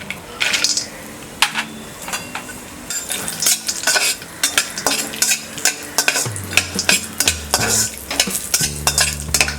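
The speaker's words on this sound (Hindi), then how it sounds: "पैन में डालेंगे ये 1 टेबलस्पून ऑयल। इसमें हम ये काजू फ्राई करेंगे।" Cashews frying in a tablespoon of oil in a pan, with frequent loud clinks and scrapes of a spoon stirring against the metal over a low sizzle, close up and without speech.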